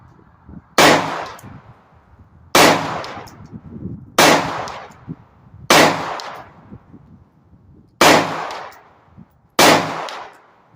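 Six loud, close gunshots from a handgun with a six-round magazine fired one at a time at uneven intervals, each a sharp crack followed by a short ringing decay, with no talking between them.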